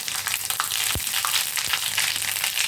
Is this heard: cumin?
yes